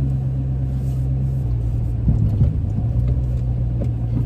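A Ford Mustang with a newly replaced clutch master cylinder drives down the road, its engine a steady loud rumble with a shift in tone partway through as it changes gear, no speech.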